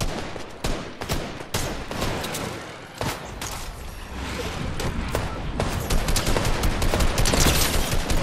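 A teammate shoots in Fortnite, with repeated sharp gunshots and rapid bursts spread throughout, loud and close, against a busy game background.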